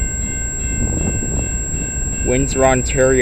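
A Via Rail passenger train, number 73 running from Toronto Union Station, rumbles past on the Dundas Subdivision in London, Ontario, a steady low roar under a voice as he speaks.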